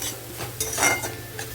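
Short burst of garlic, ginger and onion frying, sizzle mixed with metal utensil scrapes and clinks against a pan, close and moderately loud.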